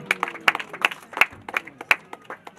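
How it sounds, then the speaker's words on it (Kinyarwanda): Scattered clapping at a church wedding ceremony, with separate sharp claps on a loose, irregular rhythm rather than full applause, close by and moderately loud. "Amashyi menshi cyane"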